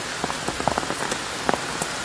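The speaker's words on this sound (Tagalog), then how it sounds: "Lumakas na naman ang ulan mga ka-taker, as you can see sa likod natin" Heavy rain pours down in Pangasinan as a dense, steady hiss, with sharper drops pattering close by, and no one speaks.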